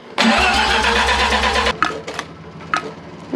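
A rotary engine, pulled and mounted on a stand, fires for the first time. It cranks and catches in a loud, buzzing burst lasting over a second, then cuts out, followed by a few short, sharp revs or pops.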